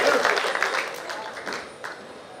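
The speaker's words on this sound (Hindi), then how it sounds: "एक जोड़ा तालियां पूरे परिवार के लिए।" Applause from an audience at a World Music Day event, a burst of many hands clapping that gradually thins and fades over a couple of seconds, moderately loud and close.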